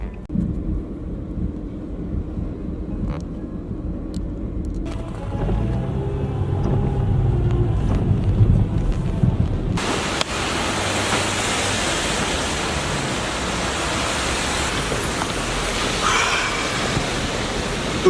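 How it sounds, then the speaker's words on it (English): Car ride in an Uber Pool through New York City, a steady broadband road and engine rumble that swells into louder wind-like noise about halfway through, with no talking. "Uber Pool. That's where you get to save a little money and share a ride with someone else."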